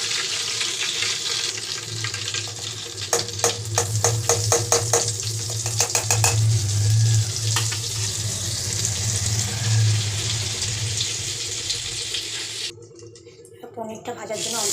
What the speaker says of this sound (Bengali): কড়াতে সাদা তেল দিয়েছি, একটু মাখন দিয়েছি, দিয়ে নুন দিয়ে পনিরটা ভাজতে দিয়েছি।